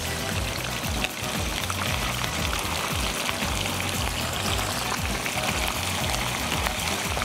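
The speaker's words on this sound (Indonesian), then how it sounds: "Kita goreng ikan tembungnya." Mackerel fillets frying in hot oil after a seasoning of salt and pepper, giving a loud, steady crackling sizzle that runs unbroken from start to finish with no talking.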